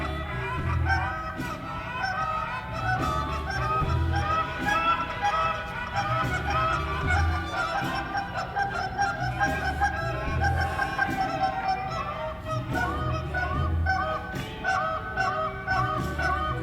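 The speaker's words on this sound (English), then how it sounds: "we hear some honkers off in the distance" A flock of geese honks continuously in overlapping, clamorous calls out in the field near a hunting blind, loud and sustained, with no talk over it.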